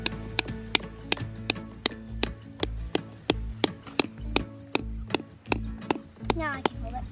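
A tent stake is hammered into the ground outdoors with a long series of sharp, evenly spaced metallic strikes, close and clear, under a low background hum.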